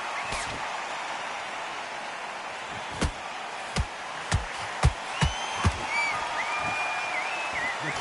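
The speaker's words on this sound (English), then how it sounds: "you can hear everybody in the crowd" A theatre crowd at a boxing match sends up a steady, full murmur, broken by a handful of sharp thuds in quick succession.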